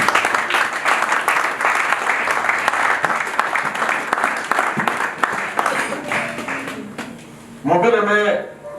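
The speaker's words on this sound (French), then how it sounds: "Est-ce que nous pouvons acclamer pour notre Seigneur?" Church congregation clapping and cheering for the Lord during a French-language sermon, dense sustained applause for most of the stretch, then a voice rising over the crowd near the end.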